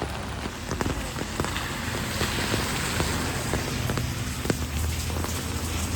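Heavy rain pours down steadily during a ski trip in Italy, a dense, loud hiss with scattered sharper drops and patters striking nearby surfaces, continuous throughout with no voices.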